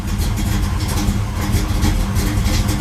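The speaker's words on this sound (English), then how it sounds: "It's idling, but just barely." A cold Chevrolet Camaro engine idles roughly and low, a steady loud rumble that wavers and barely holds, with no voices.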